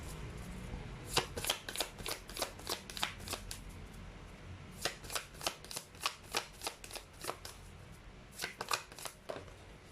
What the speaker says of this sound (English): Let's try to pull up another set of cards here.